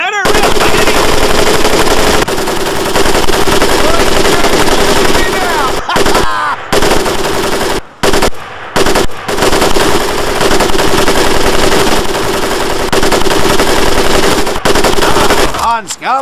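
An M1919A4 .30 caliber machine gun firing in a Medal of Honor Pacific Assault training scene, loud continuous automatic bursts with only a few brief pauses, close and dominant.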